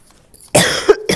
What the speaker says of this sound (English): I done coughed all over this pad